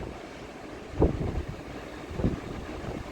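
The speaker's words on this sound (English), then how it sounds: "It's still very windy." Strong wind blows along the Outer Banks Atlantic coast, a steady low roar with two heavier gusts buffeting the microphone and rough surf beneath.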